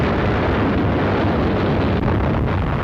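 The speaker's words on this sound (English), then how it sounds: "the ship is rocked by internal explosions" A dense, continuous roar of blasts and rumbling, loud and unbroken, like internal explosions tearing through the aircraft carrier USS Franklin after a kamikaze attack, with no voices.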